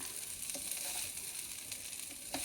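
Vermicelli frying with ginger-garlic paste, salt and chilli in a pan gives a steady bright sizzle, with a few soft stirring scrapes breaking through at close range.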